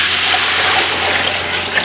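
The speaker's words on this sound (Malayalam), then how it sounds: "ഇനി ഞാൻ അതിലേക്ക് വെള്ളം ആഡ് ചെയ്ത് കൊടുക്കാം" Water, nine cups of it, is poured into a pot of fried rice for Malabar fish biryani, a loud continuous rushing splash that stays steady with no talk.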